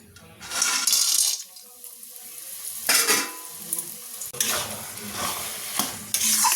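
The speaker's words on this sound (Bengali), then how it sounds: "আর এই যে প্রথমে বড়িগুলো ভেজে নেব। কড়াই তেল দিয়ে দিয়েছি অলরেডি।" Lentil dumplings (bori) frying in oil in a kadai, with bursts of sizzling that swell and fade amid stirring and occasional clinks of utensils against the pan.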